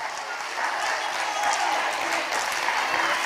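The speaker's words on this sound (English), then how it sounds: "give him an encouraging round of applause" An audience at a primary school elocution competition final claps in steady, dense applause that fills the room, moderately loud and sustained throughout, with a voice faintly beneath it.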